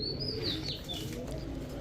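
Pigeons of the Pakistani teddy, racer and giribaz breeds at a farm give faint, soft chirps and coos, with a hint of wing flapping over a low background rumble.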